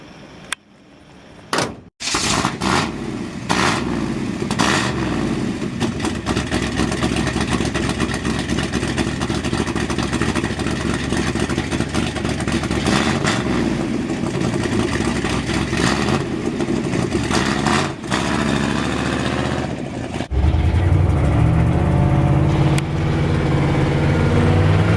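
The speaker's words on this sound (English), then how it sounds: "I'll start it up. You can hear it. It's a little on the loud side because of the side pipes" A 1950 Oldsmobile 88 with stock exhaust manifolds and side pipes cranks and fires, then settles into a loud, steady idle close by with a brief rev near the end.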